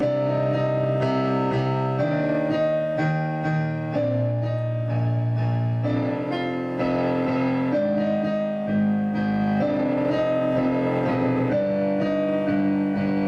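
Solo piano plays a cover of Shin Gojira's theme, tapping one note repeatedly over sustained low chords in a steady, moderately loud rhythm with no voices.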